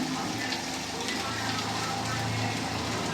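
Bata fish frying in a pan, giving a dense, even sizzle that holds steady throughout, close and fairly loud, with no voices over it.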